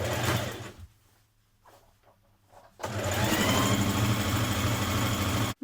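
A sewing machine hums steadily as it stitches the inner leg seam joining a trouser front to a trouser back, running in a burst, pausing briefly, then running continuously again.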